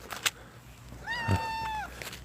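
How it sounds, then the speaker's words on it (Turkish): A cat gives a single drawn-out meow with a rising, wavering tone, close and clear, after a brief shuffling noise, in a quiet spot where broken glass lies around. "Kaç kedi var burada?"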